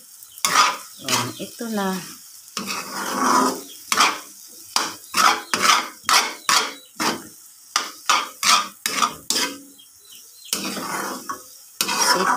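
String beans stirred in a pan, a quick series of clattering spoon-on-metal strokes with bursts of sizzle between them, close by; a voice speaks briefly.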